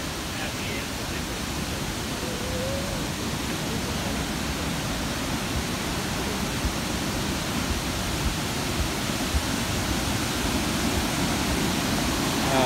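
The Nauyaca waterfall in Costa Rica, heard from a viewpoint on the walk to the upper falls, roars as a loud, unbroken wash of rushing water that fills the whole stretch.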